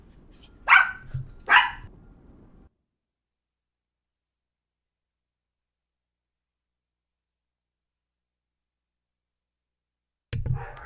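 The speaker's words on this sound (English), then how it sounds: "Butterbean is barking. She's going crazy" A dog barks twice in quick succession, loud and close. A long silence follows, then another short burst of sound.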